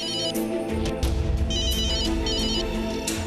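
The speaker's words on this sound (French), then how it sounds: "Décroche le téléphone, ma sœur." A telephone ringtone trills repeatedly with no answer, bright pulsing tones over a dense musical backing, loud and continuous throughout.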